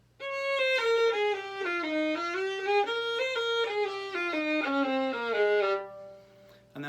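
A solo violin plays a steady run of paired notes, each long note followed by a short one, in a lilting uneven rhythm, close and clear.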